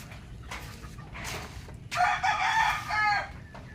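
A rooster crows loudly and close on a mountain farm during a storm, a long strained call following softer clucking and rustle, with rain-like background noise throughout.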